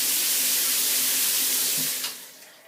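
A handheld shower head sprays a strong, steady stream of water, a loud continuous hiss that drops off and softens near the end as the flow changes.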